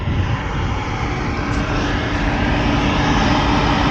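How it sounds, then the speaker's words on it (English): Fans of an older Carrier rooftop HVAC unit from around 1998 running on a roof, a loud, steady, broadband roar that holds unchanged throughout. "Fans running."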